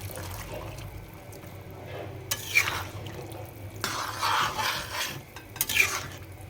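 Boiled chana dal being stirred into braised chicken liver in a pot, with soft scraping and wet churning bursts over a low kitchen hum, louder swells near the middle and end.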